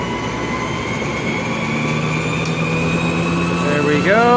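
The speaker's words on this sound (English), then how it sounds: "Alright, let's turn on the generator. And bring up some RPM." Generator running close by with a steady droning hum, its engine pitch climbing sharply near the end as the RPM is brought up.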